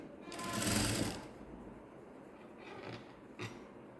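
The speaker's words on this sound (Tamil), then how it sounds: "இந்த பக்கமும் அதே போல் காலேஜ் மடக்கி தைச்சிருங்க" A sewing machine stitches the folded edge of a fancy saree blouse in a steady mechanical run lasting about a second, followed by quieter handling noises and a brief click, with no talking.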